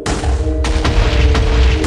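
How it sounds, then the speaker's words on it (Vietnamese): TNT bombs lit with flint and steel exploding in the Minecraft video game, a loud booming blast followed by several rumbling detonations in quick succession, with no talking. "tôi hăng hái lấy chiếc bật lửa và kích nổ những quả bom mà tôi thiết lập trước đó"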